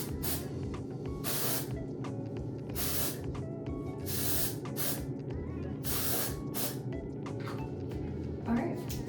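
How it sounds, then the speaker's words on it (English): Dry shampoo sprays onto hair in several short, close hissing bursts spaced a second or two apart, over a steady background of voices. "Step 1 in a zhuzh is dry shampoo."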